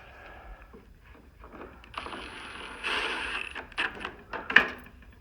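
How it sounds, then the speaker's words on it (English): A magnetic nut driver on an extension runs screws back into an Atwood/Dometic RV furnace, giving a soft whirring and clicking mechanical sound that builds midway, with a few sharp metallic ticks and a clink near the end. "A magnetic nut driver makes this, with this extension, makes this real easy."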